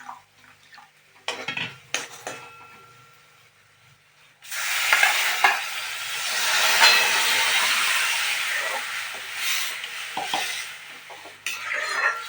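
Hot water is poured into a pot of boiling spinach curry with turmeric. After a few quiet clinks, a loud rushing hiss starts abruptly and holds steady for several seconds, then tails off near the end.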